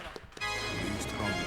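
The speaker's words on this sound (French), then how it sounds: "On lance le jingle" A Burger Quiz game show jingle cuts in abruptly after a brief moment of talk, then plays on as loud, dense, sustained music to the end.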